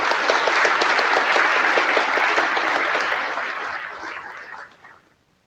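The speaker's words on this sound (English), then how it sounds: "Could you give them a round of applause, please?" A conference plenary audience applauds nomination committee members, a broad steady burst of clapping that holds for a few seconds and then fades out to silence.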